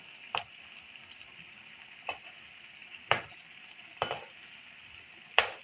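Rolls frying in a pan while being flipped over, a soft steady sizzle with several sharp clinks and scrapes as they are turned at irregular intervals.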